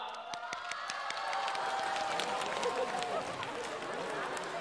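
An audience at a live music concert applauds as a singer is welcomed on stage, sustained clapping and cheering filling the hall, with a few sharp individual claps standing out near the start.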